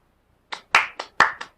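Hands clap in applause, sounding as five crisp, close claps in an uneven rhythm after a short silence, with no talking.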